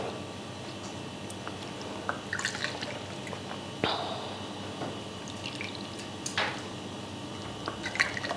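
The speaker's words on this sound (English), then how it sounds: "now you just continue to filling up all your beautiful glasses" Ginger shot mixed with apple juice is poured into small glasses, giving faint, close trickles and drips with occasional light clinks, no talking.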